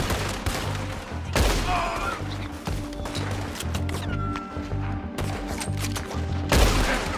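Gunfire echoes through a Red Dead Redemption 2 shootout, with dense, repeated shots and crashes over rough background noise, fairly loud and near.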